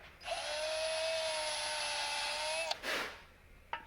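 A power tool lightly chamfering a bolt hole on a Chevy inline six part, a steady high whine lasting a couple of seconds, then a short rasp and a brief second burst.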